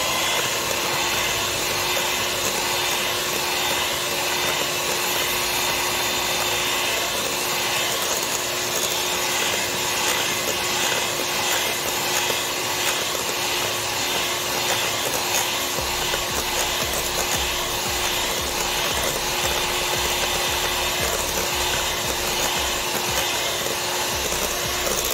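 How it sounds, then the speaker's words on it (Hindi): An electric mixer whips cream with a loud, steady whirring drone that runs for the whole clip without pause, and no talking over it. "क्रीम को मैंने मुकम्मल तौर पर व्हिप कर लिया है।"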